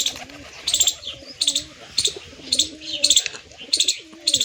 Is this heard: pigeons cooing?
yes